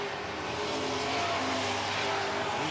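Super trucks racing around an oval track in a heat race, a continuous dense engine roar from several vehicles at steady loudness, no talking.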